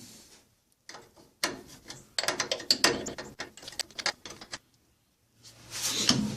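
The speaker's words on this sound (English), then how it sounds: "And you go ahead and finish tightening your brake line down." A wrench works on a brake line nut on a 1997–2002 Dodge Dakota during a wheel cylinder replacement, giving a close series of quick ratcheting clicks in bursts with short pauses between.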